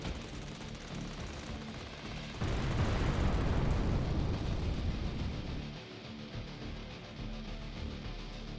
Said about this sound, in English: The armored personnel carrier that was driving first also hit a mine.